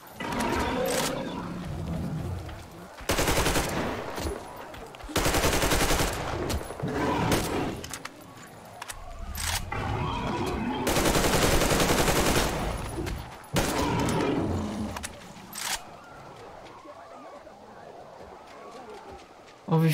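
Gunfire against enemies in Metro Exodus, with loud bursts of automatic fire that come and go in several long volleys, separated by quieter stretches.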